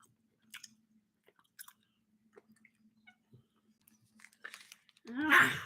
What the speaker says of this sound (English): So we're all just chewing right into this microphone?